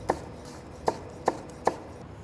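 Knife cutting through apple on a cutting board, four crisp, evenly spaced chops landing close and clear against a low room hum, no voices.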